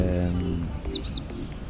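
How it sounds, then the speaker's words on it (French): A small bird gives a couple of quick, high chirps, faint and close together, after a brief low hum at the start. "un petit oiseau qui vient me parler"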